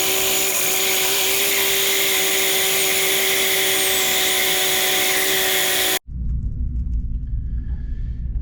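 A core drill grinds into the ground next to a small puddle, a loud, steady broadband drone that runs without a break for about six seconds. It then cuts out abruptly, leaving a quieter low rumble behind.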